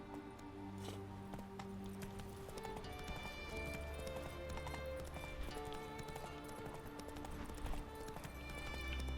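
Horse hooves clip-clop at a steady gallop in The Witcher video game, running continuously under a busy, layered mix of game music and ambience, with an occasional whinny and a faint voice.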